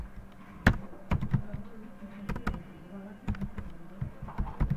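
Demo text is typed into a PowerPoint text box as scattered clusters of close, clicky computer keyboard strokes, with soft pauses between the bursts.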